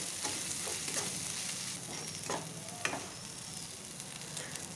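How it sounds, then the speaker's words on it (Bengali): A spice mix with turmeric and Kashmiri chili powder is sautéed in oil, giving a continuous soft sizzle and crackle with occasional stirring scrapes, steady and moderately quiet, with no talking. "তারপরে একটু ভালোভাবে আবারও আমি কষে নেব মশলাটাকে"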